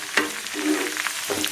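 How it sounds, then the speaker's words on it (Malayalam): Curry leaves frying in hot oil for a tempering crackle and sizzle loudly and close. Brief spoon scrapes break in as the pan is stirred. "മൂത്ത് വരുമ്പോൾ വേപ്പില ഇട്ട് കൊടുക്കുക"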